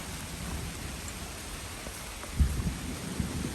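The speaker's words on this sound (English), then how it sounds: "Here comes the rain." Rain comes in as a storm arrives outdoors, a steady soft hiss of falling drops with a low rumble underneath and a brief thump near the end, faint and even throughout.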